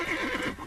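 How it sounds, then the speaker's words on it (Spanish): A horse gives a short, close whinny with a rough, breathy edge, loud and alone for under a second. "Los caballos comenzaron a resoplar y a encabritarse."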